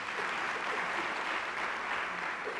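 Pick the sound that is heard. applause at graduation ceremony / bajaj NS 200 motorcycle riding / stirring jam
applause at graduation ceremony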